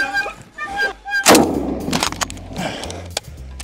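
An MG-34 machine gun fires a loud blast followed by several sharp reports, with some faint honking tones before the shots, heard close up outdoors.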